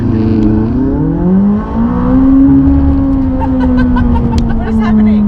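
A McLaren 600LT in launch control revs up, dips briefly, then pulls away with a loud, rising engine note heard from inside the car, while people talk and laugh over it.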